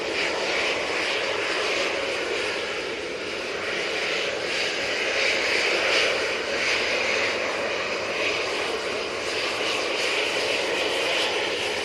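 EasyJet airliner jet engines roar steadily at Manchester Airport, a dense broadband rumble and hiss with slow pulsing swells, loud and sustained for the whole stretch, with no talking.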